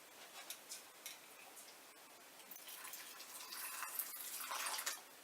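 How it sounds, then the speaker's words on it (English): Hot water trickles and splashes into glass jars of beans, a faint, continuous pour building slightly louder toward the end with small clinks. "I plan to put the hot water to top it off"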